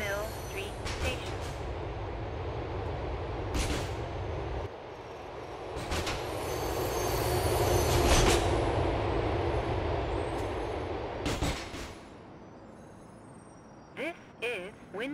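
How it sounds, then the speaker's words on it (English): Subway train in GTA IV rolling into a station in the Liberty City subway system, a steady rumbling roar that swells and eases, with rattles, clacks and a faint squeal near the end, under an automated announcement voice. "The train is approaching Windmill Street Station."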